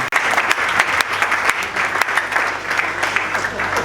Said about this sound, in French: Est-ce qu'on peut applaudir pour ce ministre archevêque président?